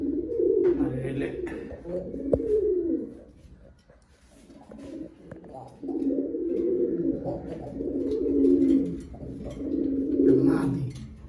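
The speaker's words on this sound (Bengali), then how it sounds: "এই যে গররা কবুতর," A pair of domestic Gorra breed pigeons coo close by in low, rolling phrases that swell, pause briefly, then resume several times.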